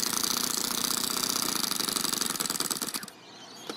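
A small 4-stroke overhead cam engine in an RC car runs with a rapid, buzzy, rattling beat, loud and close, then drops toward a lumpy idle near the end.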